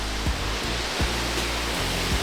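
A large waterfall in Tahiti roars as a dense, continuous wash of falling water, loud and close, with a few low thumps from wind or handling.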